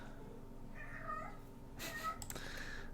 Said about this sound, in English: I've got a cat being loud, very loud.